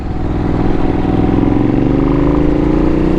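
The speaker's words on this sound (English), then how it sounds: "Okay, downshift blip." Engine of a Ducati V2 or Yamaha R7 sport motorcycle blipping the throttle on a clutchless downshift, a loud, close, continuous mid-pitched engine note that rises steadily in pitch with no talk over it.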